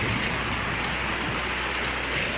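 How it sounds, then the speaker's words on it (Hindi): Heavy wind-driven rain pours down outside a home near a temple, a loud, constant roar of water drumming on surfaces, close and unbroken, with no voices. "भाई कितनी तेज़ बारिश हो रही है"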